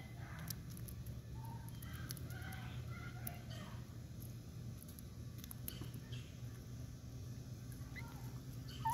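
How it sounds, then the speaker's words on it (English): Chickens cluck softly while eating bees and wasps, with scattered bird calls over a steady low rumble of outdoor background noise, fairly faint throughout. "Chickens eat bees."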